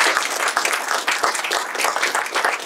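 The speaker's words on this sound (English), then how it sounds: "let's give Ann another warm round of applause" Warm audience applause after a talk on the 1937 Cord 812, a dense, loud, continuous roar of many hands clapping close by, steady throughout.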